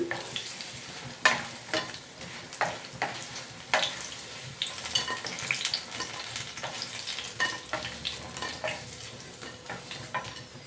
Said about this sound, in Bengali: এই দেখুন আমার কতটা ভাজা হয়ে গেছে।